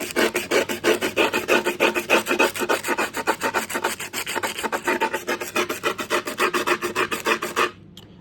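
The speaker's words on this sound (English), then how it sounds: "you get a screwdriver and you're just going to score up the side" A screwdriver scores up the edge of a board, with rapid rhythmic rasping scrapes repeated close and loud for about eight seconds before stopping abruptly.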